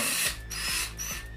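Small screw being driven with a 2.5 mm screwdriver into an Arrma Kraton 8S EXB RC car, three short ratcheting turns with close, crisp clicks and scrapes repeating in a steady rhythm, no talking.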